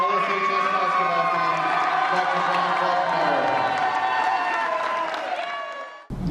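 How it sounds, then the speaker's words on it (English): A high school senior show audience bursts into loud, sustained applause and cheering for the school's biggest basketball fan, with whoops and shouts over dense clapping that stops abruptly at the end. "Please join us in a round of applause for our biggest LSHS basketball"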